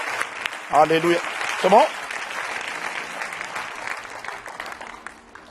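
A church congregation breaks into steady applause, with a voice calling out twice near the start before the clapping continues on its own.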